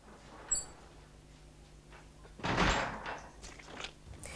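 A garage door swings shut with one dull, heavy thump followed by a short rattling rumble, fairly close, set against quiet room noise.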